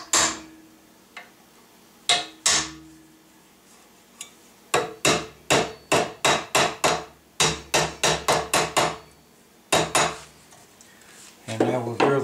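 Hammer striking a punch to set the edges of a sheet metal gun buttplate, sharp metallic taps close up, some single and others in quick rhythmic runs of several blows, with brief pauses between bursts.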